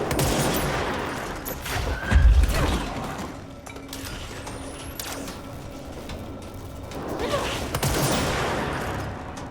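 An explosive gas gun fires in the video game Control, with a heavy low blast near the start followed by scattered shots, mechanical clicks and combat noise, loud then easing off.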